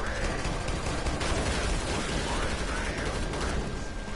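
Continuous submachine gun fire in Killing Floor 2, a dense, loud, unbroken stream of rapid shots blended with game noise from start to finish.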